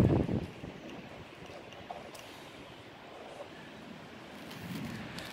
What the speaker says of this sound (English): Wind's getting up now, if you can hear that, people.